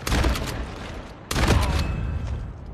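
Dense bursts of gunfire in a shooter video game ring out close and loud, with a heavy volley at the start and a second sharp burst midway, with no talk.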